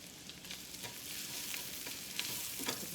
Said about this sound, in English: Just continue stirring until they're done.